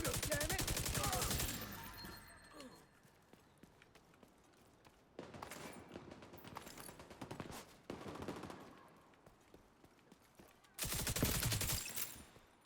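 Bursts of video game gunfire in a first-person shooter, loud volleys at the start and end with sparser shots between, over quieter background noise.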